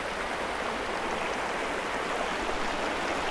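A seven-tier waterfall roars as a steady, dense rush of falling water that stays constant and fairly loud throughout, with no voices over it.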